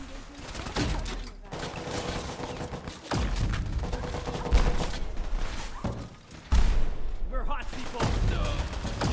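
Rapid automatic gunfire and heavy shots crackle through a Fallout 4 firefight, with dense volleys and a few loud booming impacts, while voices shout over the shooting.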